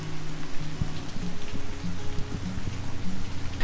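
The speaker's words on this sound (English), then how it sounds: "It's actively raining here" Rain patters steadily and densely on a nearby surface, a continuous close wash of drops with a low hum underneath.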